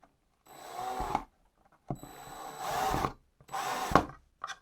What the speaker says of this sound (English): I am now going to drill this into the actual wood.